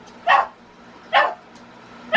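A dog barks three times in sharp, evenly spaced yips, close and fairly loud, with a low steady hum underneath and no talking.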